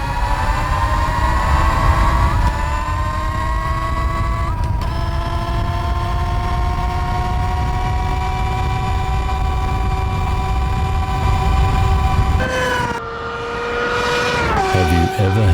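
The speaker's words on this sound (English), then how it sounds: "Introducing an all-electric 4-speed dirt bike." An all-electric 4-speed, 90-volt dirt bike runs with a loud, steady, high motor whine that holds its pitch, then drops and shifts sharply near the end, as if changing gear.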